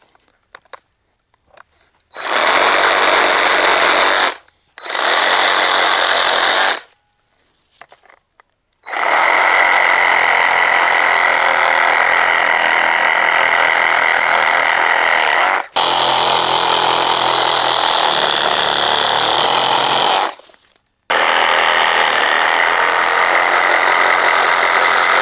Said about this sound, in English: I use this saw actually primarily for trimming branches just like this